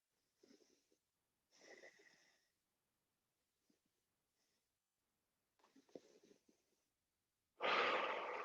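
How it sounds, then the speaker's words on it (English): Several people breathe heavily during a light stretching warm-up before a cardio workout, with short bursts of breathing separated by quiet pauses and one louder, longer exhale at the end. "We're finding that breathing again."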